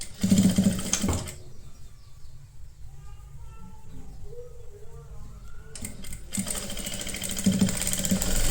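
A sewing machine stitching the two sides of an A-line kurti, its rapid motor buzz loud at the start and again at the end with a quieter lull between, a voice faintly present.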